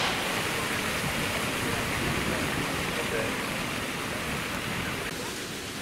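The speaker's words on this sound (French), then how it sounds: "Elle déploie son jet d'eau en éventail." Fan-shaped water jet of the central fountain in the Palais Royal gardens, Paris, a dense continuous hiss and splash of falling water, steady and fairly close with no pauses.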